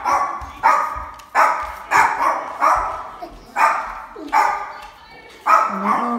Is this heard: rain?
no